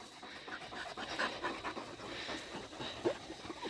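A husky off leash on a February bushwalk pants steadily and fairly quietly, with rapid breathy rhythm over faint outdoor ambience and a brief whimper-like squeak near the end.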